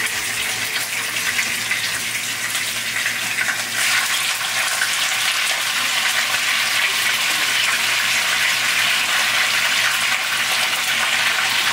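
Mackerel sizzling as it fries in a pan of hot oil, a loud, steady hiss and crackle running continuously without pause.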